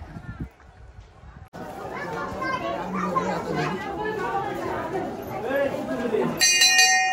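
Children play and chatter loudly outdoors in a village on the way to a temple, and near the end a bright, ringing hand bell sounds clearly, briefly standing out over the voices.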